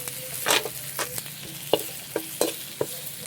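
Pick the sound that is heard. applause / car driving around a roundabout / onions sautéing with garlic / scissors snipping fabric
onions sautéing with garlic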